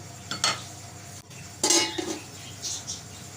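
A utensil stirs chicken and vegetables with white vinegar in a pan, giving two short bursts of scraping and clinking against the metal separated by near silence, no talk.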